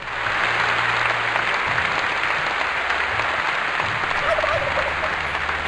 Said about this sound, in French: Et un dindon de Lil Melko, j'aimerais un son d'applaudissement pour ce don, Crane, ça marche!